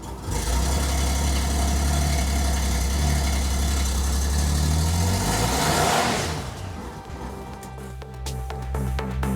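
A repaired Honda Goldwing motorcycle engine runs at a steady, close, loud idle with a rising rev partway through, then settles into an uneven rumble.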